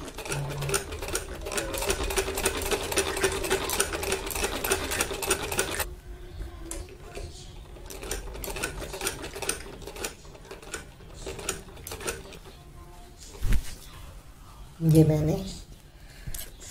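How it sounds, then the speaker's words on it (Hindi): Sewing machine stitching a seam on a boy's kameez, running in a fast, steady close whir for several seconds before stopping, followed by handling noises and a voice talking. "इस तरह से मैं इसकी सिलाई लगाते हुए आगे की तरफ बढ़ूंगा"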